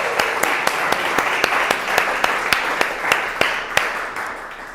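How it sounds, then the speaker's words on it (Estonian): Crowd applause at a live guitar auction in a gallery, a steady dense clapping wash with a few sharp individual claps standing out, continuous and fairly loud throughout. "Aplaus!"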